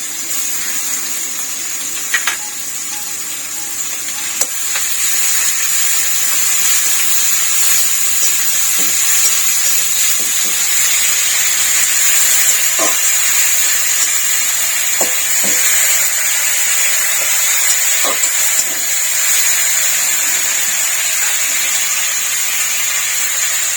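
Garlic-ginger paste sizzles in hot oil for a rohu fish curry, a steady bright hissing fry that holds throughout, with a few faint clinks of a spoon against the pan.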